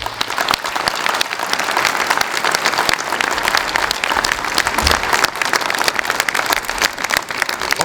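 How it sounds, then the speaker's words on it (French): A crowd at a town's New Year greetings ceremony in Soissons applauds a local man, loud sustained clapping from many hands filling the room without a break. "Je pense qu'on peut applaudir Jean-Marie."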